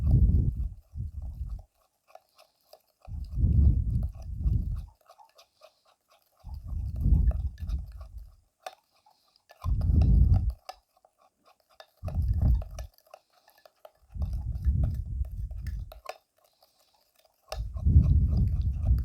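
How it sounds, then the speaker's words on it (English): Ingredients are stirred with about two teaspoons of natural milk into a cream paste for a homemade skin remedy, heard as close, soft mushing and scraping bursts that come every few seconds with quiet gaps between, and no talking. "add around 2 teaspoons of natural milk, and mix well all the ingredients"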